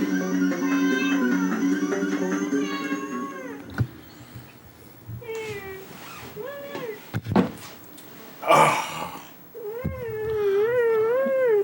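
A house cat near a retro CRT gaming setup lets out several drawn-out, wavering meows, loud and close, spaced apart with a few thumps and clicks between them.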